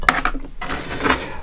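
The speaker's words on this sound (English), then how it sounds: "I'm still chopping the meat" A knife chops meat for a Lancashire hotpot on a board, giving a few close, sharp knocks at an uneven pace with no voices.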